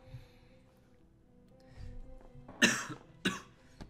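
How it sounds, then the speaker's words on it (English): A person coughs twice in quick succession, loud and close, after a few quieter throat sounds in an indoor room. "I can't stop coughing"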